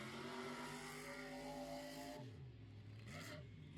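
John Zimmer Jr.'s monster truck, apparently running with only front power, growls at a distance at Wilmot, Wisconsin, its faint engine holding a steady pitch before falling off and briefly revving again.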